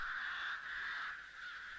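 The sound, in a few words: crows cawing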